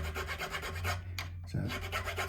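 A file rasps back and forth across the fret ends on a Harley Benton guitar fretboard, steady close scraping strokes with a brief pause midway.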